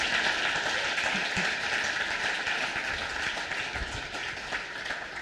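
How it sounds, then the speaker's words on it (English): An audience at a sustainability summit in Louisville applauds a speaker, steady, fairly even clapping from a crowd heard at some distance throughout, with no voices over it. "Let's give her another round of applause."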